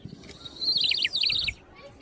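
A bright warbling whistle trills up and down for about a second, a toy water whistle imitating birdsong, close and clear.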